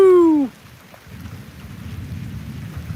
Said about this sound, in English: yes, I can hear the rain.